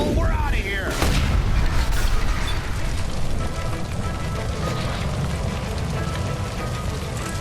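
A gas line explodes in L.A. Noire, with a sharp boom near the start followed by a long, loud roar of fire and crackling debris that stays dense throughout.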